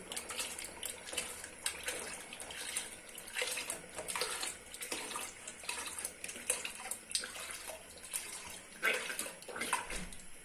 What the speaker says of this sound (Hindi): और अब चावल में देखिए पानी भी है, पानी होना चाहिए साथ। तो इस तरह से दूध डालते जाएंगे।